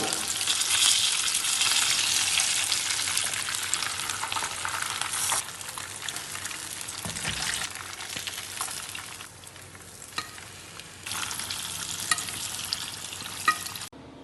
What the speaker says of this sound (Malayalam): കട്ട്ലേറ്റ് വറുത്തെടുക്കാം നമുക്ക്